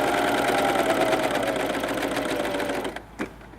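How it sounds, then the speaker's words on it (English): Pfaff Coverlock 3.0 overlocker stitching along fabric, a dense, fast, steady mechanical whir close up that runs for nearly three seconds, then stops abruptly with a brief clunk. "overlock away from the corner"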